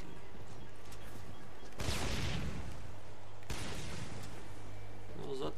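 Sniper rifle fire in the video game Section 8: Prejudice: two loud, sharp shots spaced well apart, each followed by a rumbling decay, over a low background hum.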